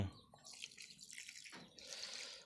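Water poured from a tap or container into a pot while cooking a Thai dish with basil, a steady splashing, running stream that is fairly close and moderately loud, with no talking.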